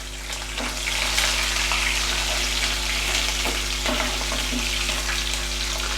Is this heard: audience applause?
no